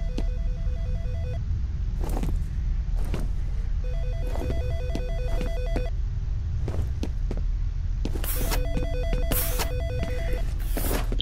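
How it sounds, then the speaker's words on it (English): A telephone rings repeatedly inside the video game F.E.A.R., its electronic trill sounding in several bursts over steady game ambience, with footstep-like knocks and other in-game noises in between. "Their phone ringing?"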